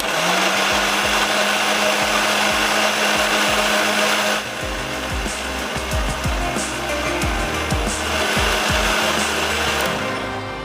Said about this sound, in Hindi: यहाँ पर मैं इसको जल्दी से ब्लेंड करके गोश्त में ऐड करती हूँ